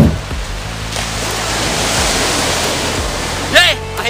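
Surf at Sambolo 1 beach in Anyer, Banten, heard as a loud, steady broadband rush of breaking waves close by, with a brief tonal sound near the end.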